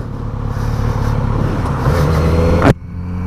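A 2018 Kawasaki Z900RS motorcycle engine revs loudly and close up, its steady roar rising in pitch before cutting off sharply into a quieter idle.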